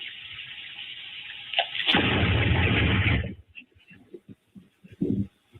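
An explosion in a residential subdivision in New Baltimore, caught on a Ring doorbell, lands as a sudden, heavy, muffled roar lasting about a second, followed by scattered knocks and rattles.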